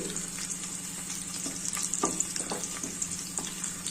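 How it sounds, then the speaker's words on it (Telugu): Garlic frying in a pan as a tempering for a broad bean curry, giving a steady close sizzle with a few soft stirring scrapes and no talking. "రోస్టెడ్గా వేయించుకోవాలండి ఎల్లిపాయ"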